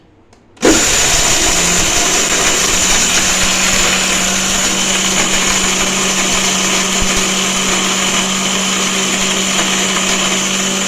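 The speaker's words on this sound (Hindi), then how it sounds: "तो ये सारी बाकी चीज़ें जो मैंने मिक्स डाली हैं इनको भी ग्राइंड करते हैं।" An electric grinder pulverizes hard whole spices for homemade garam masala, bursting on after a short silence into a loud, steady, high whining roar that runs unbroken to the end, with no voices.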